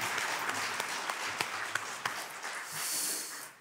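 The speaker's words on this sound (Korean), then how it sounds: "할렐루야 영광의 박수를 하나님께 드리겠습니다" A church congregation at a Sunday worship service applauds steadily and fairly softly, with distinct sharper claps standing out at a regular beat through a continuous wash of hands.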